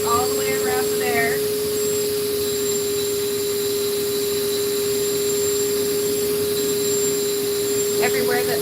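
A Dremel rotary tool grinds and smooths the edges of a carved stone bear, a steady high whine running unbroken close by, with brief faint sounds near the start and end.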